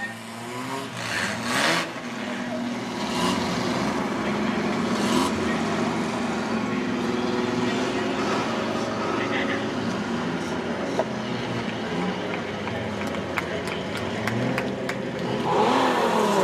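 An outlaw sedan race car takes a single lap of a dirt speedway at night, its engine rising and fading as it circles, with crowd noise and background chatter mixed in.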